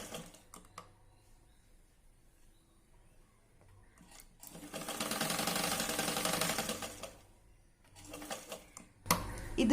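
A sewing machine stitches elastic onto a baby girl's dungaree skirt. After quiet clicks of fabric handling comes a loud, rapid run of stitching lasting a few seconds, then a shorter burst and some bumps of handling.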